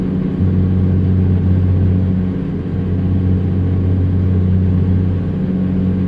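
A 150 horsepower old-school Peterbilt truck engine in American Truck Simulator drones at a steady low rumble, a strong even idle-to-cruise tone holding without change and with no voices.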